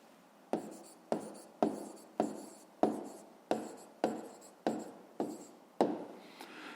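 Pen strokes on paper while writing out the answer to a fifth-grade maths exercise, about ten short scratching strokes at a steady rhythm, close and fairly quiet, with no speech.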